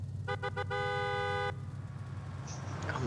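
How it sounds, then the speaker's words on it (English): Car horn honking in Forza Horizon 5: three short toots followed by one long sustained blast, loud and near, over a steady low engine rumble, then fading to road noise. "he's honking his horn now?"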